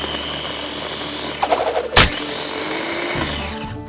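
A small electric food chopper whirs loudly and steadily while chopping artichokes, with a short burst of rough chopping in the middle before the motor hums on.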